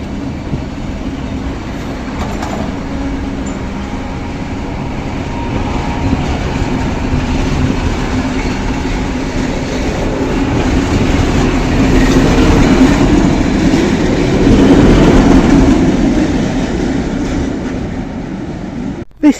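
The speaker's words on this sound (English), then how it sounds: "So I go on a train along to Podgorica Central Train Station." Steady rumble of a train rolling along rails toward Podgorica, Montenegro, with a continuous low roar and faint rhythmic clatter of wheels, swelling slightly louder toward the end.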